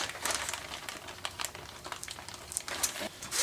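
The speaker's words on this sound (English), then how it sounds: "Here again, I'm going to use my plastic bag." A plastic bag crinkles in short, irregular rustling bursts close to the microphone, quiet and patchy, during work on a Honda TRX400ex carburetor.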